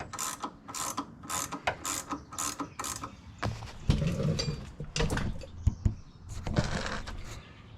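A ratchet wrench tightens bolts during a rear lift install on an FJ Cruiser, giving quick bursts of close, rapid clicking that pause briefly between strokes, then a rougher stretch of mechanical rattling and clunks.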